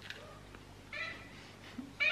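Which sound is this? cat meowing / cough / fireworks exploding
cat meowing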